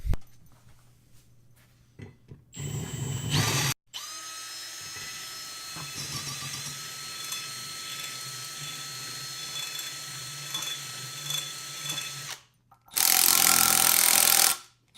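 A power drill whines steadily as a bit grinds through a brake rotor, enlarging a hole, with a few short high-pitched bursts of drilling at the start and end.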